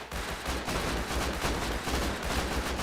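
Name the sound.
gunfire in a gunfight, from the video game Rust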